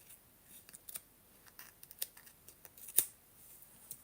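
Scissors snip a paper card's backing, trimming a dimensional floral piece flush with the edge; a scattering of short, dry, crisp cuts at irregular intervals, close and fairly quiet, one louder snip near the end, no talking.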